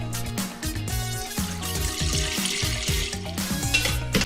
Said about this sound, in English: now we want to pour this into our punch bowl.